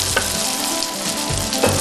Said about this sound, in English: I can start frying off my halloumi cakes in a hot oiled pan